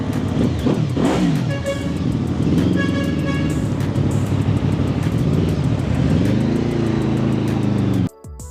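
A QJMotor SRV600 four-cylinder cruiser motorcycle runs close by, its engine rising and falling through several revs over a steady idle, then cutting off abruptly near the end.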